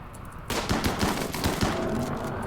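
Sniper gunfire in RimWorld, a rapid burst of sharp, loud shots that starts abruptly and continues in a dense crackling volley.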